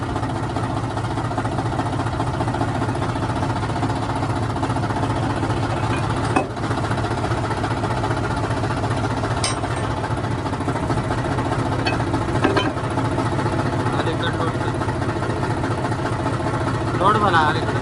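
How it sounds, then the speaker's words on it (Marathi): A tractor engine idles steadily after starting, a loud continuous mid-pitched rumble with knocking pulses that runs throughout, with a brief clank partway through and a voice talking over it. "फायनली ट्रॅक्टर चालू झालं."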